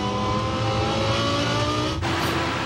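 A race car pulls away back onto the circuit after three and a half hours of repairs to a charging-system fault during an endurance race, its engine a steady close roar throughout.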